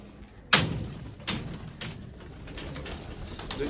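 A champion pigeon on a rooftop coos softly nearby while a sharp knock and a fainter thud break the quiet.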